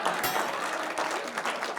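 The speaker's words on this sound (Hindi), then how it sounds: "बहुत तालियां अच्छे।" An audience at a Hindi kavi sammelan poetry gathering claps in a short, dense burst of applause that fills the room without pause.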